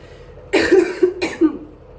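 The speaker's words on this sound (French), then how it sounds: "et que je tousse un petit peu, je tiens à m'excuser" Two sharp coughs about half a second apart, close and fairly loud, with quiet room noise before and after.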